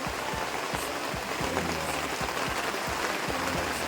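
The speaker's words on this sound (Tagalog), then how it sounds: "grabe po yan, umuulan na naman po" Steady rain falling outdoors at a construction site, a dense even hiss of drops with repeated heavier drips landing on a nearby surface, loud and continuous.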